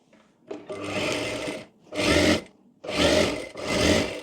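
Sewing machine stitching fabric for a chaniya choli in three close, loud bursts of rapid whirring, separated by short pauses.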